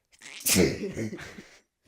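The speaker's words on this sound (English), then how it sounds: "most climactic sneeze I've ever seen" A single loud, close sneeze bursting out sharply after a short breath-in, followed by a trailing exhale and a brief breathy tail before silence.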